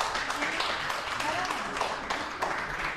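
Applause from an audience at a short film festival award ceremony in Istanbul, a dense, steady wash of clapping filling the room, with a voice speaking over it.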